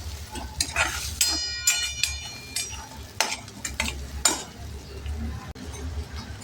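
Coriander, green chili and garlic sauté in a pan with a light sizzle and repeated scraping, clinking strokes of a spoon against the metal, close and fairly quiet with no talk.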